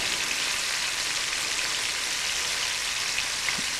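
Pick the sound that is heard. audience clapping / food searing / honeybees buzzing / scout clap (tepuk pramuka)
food searing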